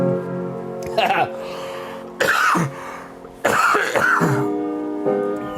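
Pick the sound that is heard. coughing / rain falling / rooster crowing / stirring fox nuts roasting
coughing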